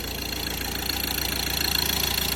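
A Ford Transit Custom van engine idles close by with a steady, even chug of rapid pulses, unbroken and without talk.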